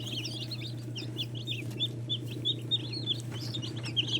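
Newly hatched chicks of Rhode Island Red, Black Australorp and Sussex breeds peeping in rapid, overlapping high chirps close by, over a steady low hum from hatchery equipment.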